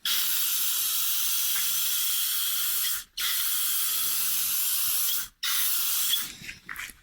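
A spray gun lays down a light coat of clear finish in loud, steady hissing blasts, cut by two brief pauses and tapering off near the end.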